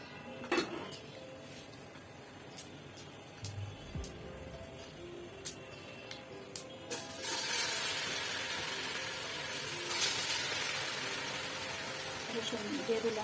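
Olives dropped into a pot of hot oil with panch phoron for winter olive pickle: a few clinks and taps at first, then a loud, steady sizzling hiss that keeps going to the end.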